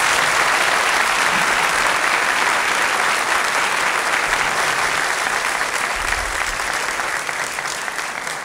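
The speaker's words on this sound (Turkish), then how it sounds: "kanun sanatçısı Coşkun Erdem'i alkışlar mıyız lütfen" A studio audience claps steadily and densely for a kanun musician on a Turkish classical music program. The applause is loud and close and fades slightly toward the end.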